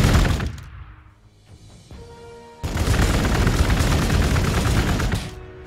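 Warhammer 40,000: Gladius units open fire in battle, loud bursts of automatic gunfire and booming shots, a fading volley first, then a sustained dense barrage after a short lull.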